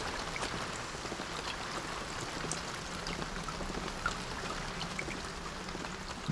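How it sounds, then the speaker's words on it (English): Steady rain falls throughout a stealth scene in the video game Thief 2: The Metal Age, a soft, even hiss of drops and trickling water, fairly quiet and without talk. "These are very good rain effects in this game."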